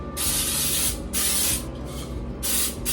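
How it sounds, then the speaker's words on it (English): Three short bursts of cooking spray hiss one after another into a greased and floured cake pan, close up, each lasting about a second. "so I add some spray"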